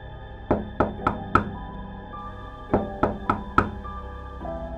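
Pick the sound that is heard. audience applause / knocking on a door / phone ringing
knocking on a door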